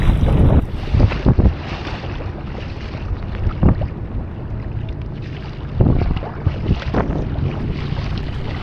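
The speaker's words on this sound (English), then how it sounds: "the wind is really picking up" Strong gusting wind buffeting the microphone while boating across open bay water, loud roaring bursts that swell and fade over a steady rushing background.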